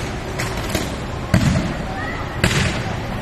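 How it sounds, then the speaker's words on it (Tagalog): Power line wire sparking and popping on an electric pole in Barangay Apolonio Samson, Quezon City, with sharp cracking bursts repeating a few times over a crackling background, firework-like and fairly close. "Sunod-sunod ang pagputok ng kawad sa poste ng kuryente."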